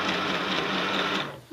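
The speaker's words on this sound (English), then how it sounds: "So I'll take those two ends and I'll sew them together." A sewing machine runs in one quick, steady burst, stitching rag rug strips together, then stops abruptly.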